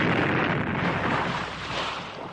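A loud, sustained roar of broadband noise, like an explosion with blast and rumble, fading slightly over a couple of seconds with no speech.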